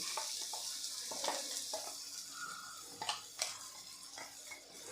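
Ground peas are stirred and sautéed in a pan, with soft scraping and clinks of a spoon against metal over a faint, quiet sizzle, in a series of irregular strokes.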